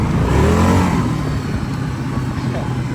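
A Kawasaki Brute Force 750 ATV, its brake handlebar bent, revs and accelerates nearby in a loud, steady engine drone, with someone talking over it.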